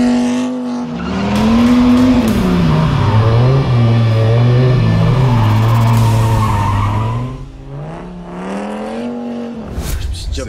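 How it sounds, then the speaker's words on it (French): A car does a tire burnout held in place by a line lock that clamps the front brakes, its engine revving hard and tires screeching loudly for about seven seconds before it eases off, with brief voices near the end. "C'est pour faire chauffer les pneus. Ça bloque l'avant et tu peux burner"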